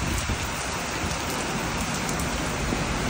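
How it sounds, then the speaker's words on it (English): Heavy rain from Hurricane Milton in Clearwater, Florida pours down steadily, a dense, loud hiss of drops hitting surfaces with no let-up. "Pretty heavy rain."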